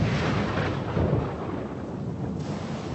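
Thunderstorm sound effect for a night battle scene: a deep, continuous rumbling roll of thunder, loud and sustained, swelling slightly near the start and fading only a little toward the end.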